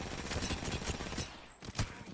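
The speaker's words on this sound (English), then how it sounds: "Now the other teams in the zone are starting to shoot at us" Rapid bursts of gunfire from rival teams in a battle-royale shooter match, muffled and somewhat distant, crackling in a dense stream with a brief lull before another sharp burst.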